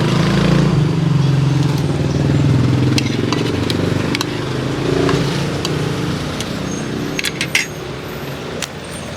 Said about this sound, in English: it's interrupted by these just really loud vehicles